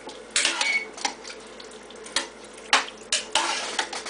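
A spoon stirs food seasoned with crushed red pepper in a pot, giving irregular scraping clinks and wet shuffling strokes close by over a faint background sizzle.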